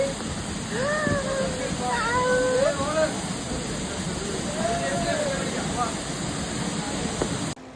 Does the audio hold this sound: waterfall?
yes